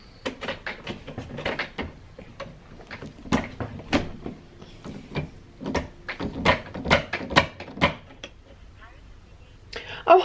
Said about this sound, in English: I'm going to give this door another go